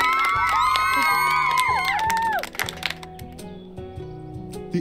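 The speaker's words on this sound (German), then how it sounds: "Let's give Island Master a round of applause." Cartoonish cheering and whoops from a crowd of game characters in Club Koala, bright rising and falling cries over a bouncy music loop, tapering into the music alone.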